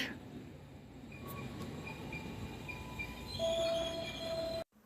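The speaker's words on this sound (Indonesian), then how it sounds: "Itu kereta bandara yang lewat" An airport train rumbles past a station at close range in Jakarta with a steady roar, a long high metallic squeal rising near the end before the sound cuts off abruptly.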